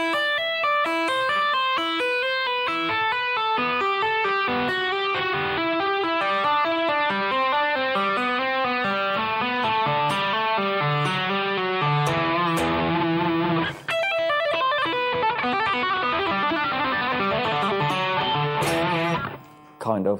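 Electric guitar plays a slow single-note phrase over open strings, notes stepping steadily through a continuous ringing passage with a brief pause near the end; close, clear and unaccompanied by talk.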